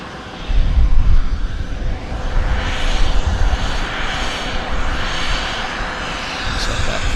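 An American Airlines jet at Vancouver Airport roars loudly and steadily, its engine noise rising sharply at the start and holding as a broad, rumbling wash throughout.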